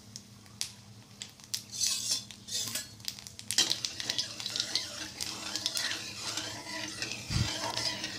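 Potatoes frying in a pan for aloo bhaja, stirred with metal utensils: repeated close clinks and scrapes over a faint background sizzle.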